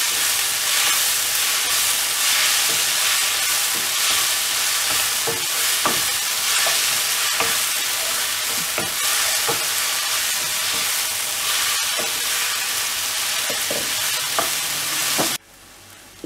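Coriander fries in a pan while being stirred, giving a constant loud sizzle broken by scraping and tapping of the spoon at irregular moments. The frying cuts off abruptly just before the end.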